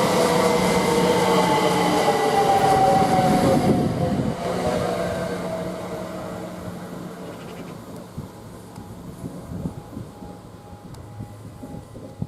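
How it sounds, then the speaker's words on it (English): A Class 387 electric multiple unit, units 387114 and 387115, running at Waterbeach station, with a loud steady rumble and whine that fades as the train draws away, leaving quieter station ambience and faint clicks. "And we get more of this train when it departs."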